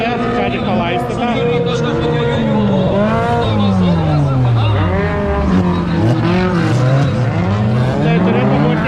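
Race cars roar around a freshly watered wet track at a LESKA race event in Joniškis, engines rising and falling in pitch as they pass close and loud, with tire noise and a voice talking over them.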